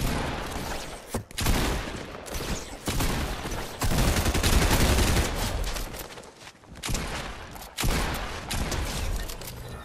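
Dense, loud Fortnite gunfire during a duos match, with overlapping bursts and rapid volleys nearly continuous for ten seconds and only brief gaps between clusters of shots.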